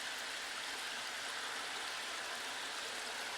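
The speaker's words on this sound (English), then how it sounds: "a large swirling vortex of water cascading down from the ceiling onto this glowing green light down at the bottom" A swirling vortex of water cascading down from a cave ceiling, heard as a steady, even hiss and rush like a waterfall, constant and fairly faint, with no voices.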